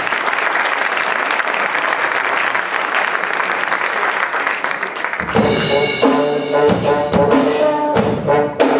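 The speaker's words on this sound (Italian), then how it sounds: "Un applauso, adesso fatto bene." An audience in Potenza applauds at a tribute concert, steady full clapping that gives way midway to music starting up over the last clapping.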